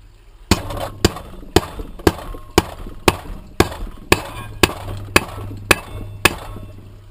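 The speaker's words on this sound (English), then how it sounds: "Hammer that flat." A hammer pounds a fabricated metal GoPro mount flat in a workshop, about a dozen sharp, evenly spaced metallic strikes close up, each ringing briefly, with no talk.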